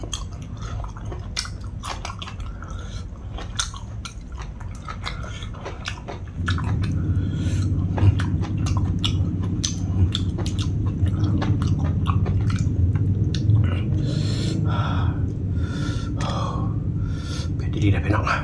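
Someone eats a spicy Isan-style squid jaw salad with vegetables, crisp chewing and biting sounds ticking through steadily, close to the mic, over a low background hum that swells partway through.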